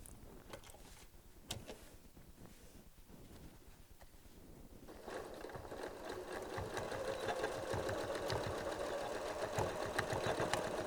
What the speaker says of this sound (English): Continue sewing it in.